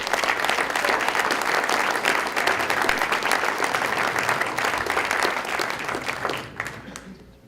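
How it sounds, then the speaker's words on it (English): An audience applauds mental health and substance abuse providers at Putnam County's 2015 State of the County address, a full, steady round of clapping that fades out at the end. "stand up and take a round of applause"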